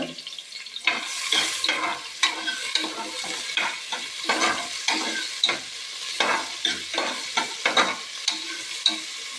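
Finely chopped small onion is stirred into hot oil in a pan, a steady bright sizzle broken by repeated scraping strokes of the spoon, close and loud with no talk.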